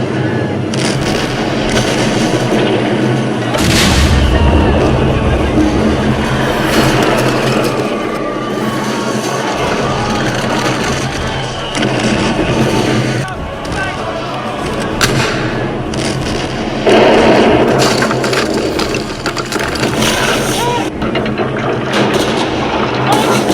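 An artillery bombardment in a French war setting rumbles with repeated deep booms and blasts layered over continuous battle noise, loud and dense throughout, with a heavy impact near four seconds.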